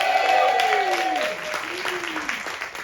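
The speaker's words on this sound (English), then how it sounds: "Give him a big round of applause." A comedy club audience claps and cheers for a comedian, dense applause filling the room loudly from the start and easing slightly toward the end, with some voices mixed in.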